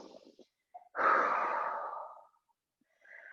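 One long, deep exhale during a vinyasa yoga flow swells and slowly fades, set between quieter short breaths near the mic.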